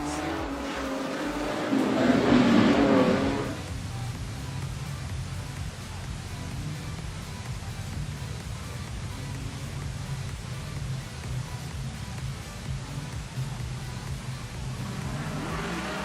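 Race cars at Carina Speedway during a production sedan race, with a brief louder engine pass early on and then a steady distant roar of engines under a broad noisy wash.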